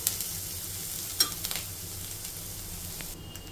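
Vegetables sizzling softly in a pan on a stove, a low steady fry with occasional utensil taps and stirring scrapes, fairly quiet and with no talk.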